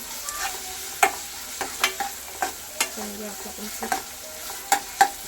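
Chopped onion frying in oil in a pan while being stirred, with a steady sizzle broken by about a dozen sharp scraping clicks of the spoon at an uneven rhythm, close and fairly loud, with no talking.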